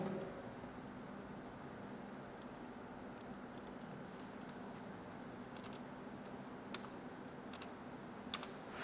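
Username typed on a computer keyboard while setting up a GitHub account: sparse, light key clicks scattered over steady background hiss, with a few sharper taps near the end.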